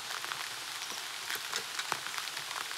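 Rain falls outdoors in a soft, continuous patter with scattered sharper drops striking surfaces nearby, fairly faint and without speech.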